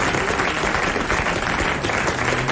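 A television studio audience breaks into applause, a loud, dense and even roar of clapping filling the short stretch with no pause.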